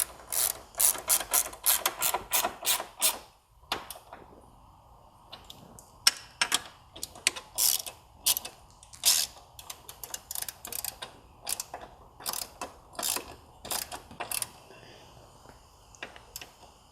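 A ratchet tightening a catch can fitting on a VW MK7 GTI, rapid clicking bursts in quick runs separated by short pauses, close and crisp, with no talk.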